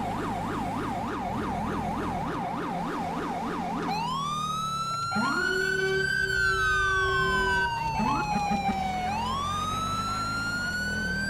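Police car siren in GTA 5 with the LSPDFR mod: a fast yelping wail that shifts into long rising and falling sweeps, loud and continuous over engine rumble.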